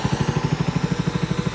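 A Japanese pesticide sprayer pump engine idles with a steady, rapid low thumping pulse, close and even, with no talk over it.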